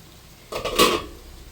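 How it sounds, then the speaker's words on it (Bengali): A metal lid lifted off a pan of fish frying on banana leaves gives a short clatter and scrape, followed by a brief surge of sizzling that fades within about a second. "ঢাকনাটাকে তুলে দেখি মাছগুলো আমার কেমন হয়েছে।"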